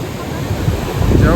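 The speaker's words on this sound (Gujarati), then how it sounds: "દરિયો અત્યારે બહુ વધારે પડતા મોજા આવે છે" Seawater surges and breaks on the shore at the sunset point in Dwarka. A loud, swelling wash builds toward the end and mixes with heavy wind buffeting the microphone, with no talk.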